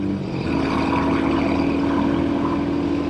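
A Royal Enfield Hunter 350 motorcycle pulls hard on a gravel and dirt road, its single-cylinder engine holding a steady, loud drone as it gains speed, with wind and road rumble mixed in.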